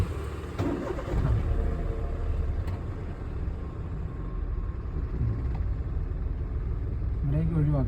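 A car engine cranks and restarts after stalling during a driving lesson, a mid-pitched rumbling idle heard from inside the vehicle, steady throughout with a renewed start near the end.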